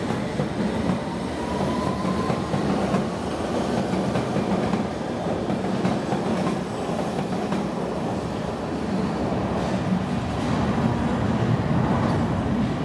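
A London Underground District line train pulls out of Victoria toward Wimbledon, its steady rumble and clickety-clack of wheels close and loud with no talk.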